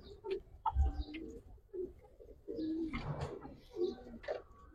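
Giribaz and coloured pigeons, a pair kept for sale, give soft, low cooing calls in a few short bursts, close by, with light rustling and bird noise between them.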